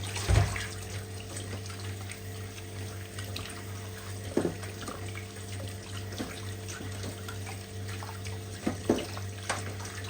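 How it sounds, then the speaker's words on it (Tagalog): Water running steadily from a tap, with occasional soft clunks and splashes as vegetables for sinigang are handled and rinsed underneath; no talking. "hugasan na natin itong pangsigang natin para maalis yung mga dumi-dumi niya"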